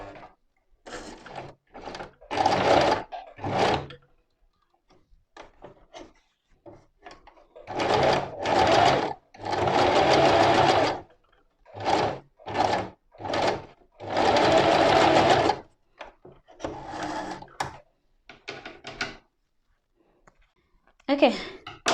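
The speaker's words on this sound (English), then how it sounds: "And now let's go and do the stitching." Sewing machine stitching a fabric apron belt, running in repeated bursts of a few seconds each with short pauses between, close and fairly loud.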